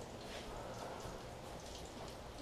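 Continuous crackling and sizzling of fish frying in hot oil in a pan, a steady spitting hiss at moderate volume with no talking.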